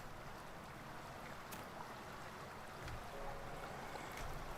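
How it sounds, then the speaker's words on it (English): Running water in Farming Simulator 19, a faint, steady broadband rush like a flowing stream, continuous and even with no speech. "Why can I hear running water?"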